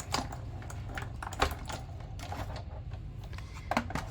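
A hand-cranked die cutting machine feeding paper and a cutting die through its rollers for a card craft, producing irregular clicks and taps with a low rumbling undertone, close and moderately loud, with no talking.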